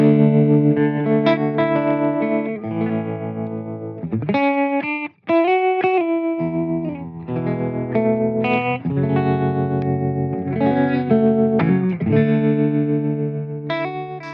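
Electric guitar played through a 1964 Fender Princeton amplifier with a pulsing tremolo, chords and single notes ringing out steadily.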